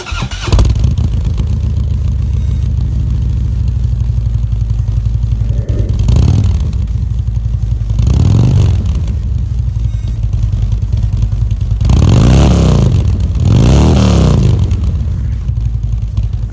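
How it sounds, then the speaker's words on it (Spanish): A loud Harley-Davidson motorcycle with an aftermarket Vance & Hines exhaust idles with a deep, rumbling exhaust, then revs four times in sharp bursts, two of them close together near the end. "Te has de preguntar qué tipo de escape es, pues es un Vance heinz y suena increíble."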